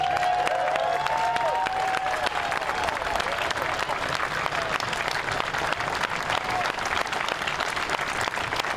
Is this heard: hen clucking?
no